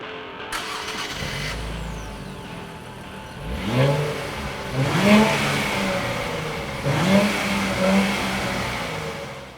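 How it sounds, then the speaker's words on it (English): A 2023 Nissan Z sports car engine cranks and fires up, then revs sharply three times with rising roars that fall back to a steady idle between bursts. "let's turn it on, give it a rev"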